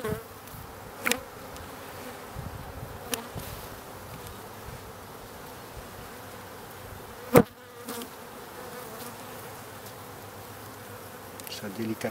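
Honeybees hum steadily around open hive frames as a beekeeper works the colony, a low continuous buzz with a few brief knocks and clicks of frames or falling wax, and no talking.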